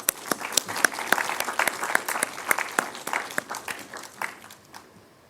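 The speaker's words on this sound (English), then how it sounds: "A big round of applause, please." Applause from the audience at an environmental sustainability session: a modest crowd claps with crisp, distinct strikes, building briefly and then tapering off into quiet near the end.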